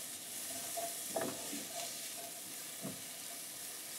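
Shallots and chilies sizzling steadily in a hot pan as they are tossed and mixed, a constant frying hiss with a few soft stirring knocks, fairly quiet and without talk.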